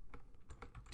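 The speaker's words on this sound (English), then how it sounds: "I'm going to type in something really goofy" Quick keystrokes clatter on a nearby computer keyboard in a short burst of typing, with soft irregular taps and no speech.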